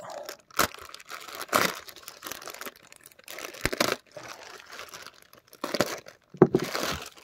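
Plastic packaging around a Piccolo figurine being opened, with bursts of crinkling and tearing in several separate bouts and short pauses between them, close by and fairly loud, with no one talking.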